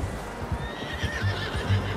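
A horse in Red Dead Redemption 2 gives a clear whinnying neigh over a few steady hoof clip-clops, close and fairly loud, with no voices.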